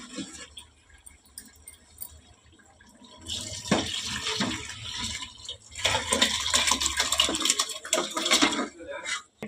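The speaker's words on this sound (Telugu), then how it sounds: "పెట్టుకున్న మటన్ను నీళ్ళు సమేతంగా ఇందులో అయితే నేను వేసుకునేసినాను." Boiled mutton and its cooking water are tipped into a biryani pot over softened tomato, giving two bursts of splashing, gurgling pour, the second longer, close by and with no talking.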